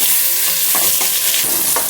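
Hilsa fish fries in hot oil with a loud, dense crackle and sizzle, close up and continuous, with small bursts of spitting.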